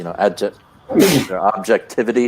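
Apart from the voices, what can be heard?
sneeze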